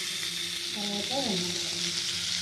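Sliced onions, green chillies, curry leaves and garlic sizzle in a pan with an even, close, hissing crackle throughout, and a brief voice sounds faintly partway through.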